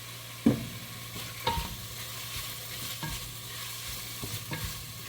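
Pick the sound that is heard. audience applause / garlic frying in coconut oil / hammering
garlic frying in coconut oil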